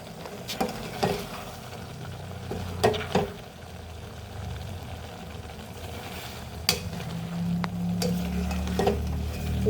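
Shrimp frying in a pan, giving a steady low sizzle with scattered sharp clinks and scrapes of a utensil against the pan, close and fairly loud, with no talking.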